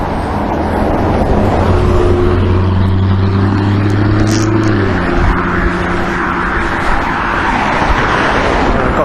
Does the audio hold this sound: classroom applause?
no